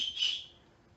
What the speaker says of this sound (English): we've got an emergency whistle, which also works fine